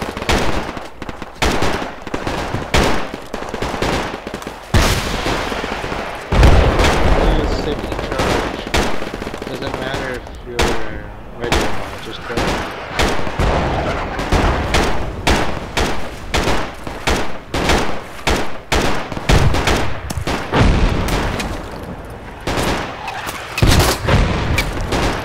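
Mortar barrage and gunfire in Project Reality on the Karbala map, with heavy booming explosions and sustained bursts of machine-gun and rifle fire running continuously and loud, while players shout and talk over the battle.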